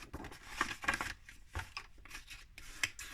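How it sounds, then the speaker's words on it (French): Scissors snip through card paper squares in a few close, crisp cuts spaced irregularly, with rustling of the card between snips and no talk. "Je vais vraiment pouvoir couper."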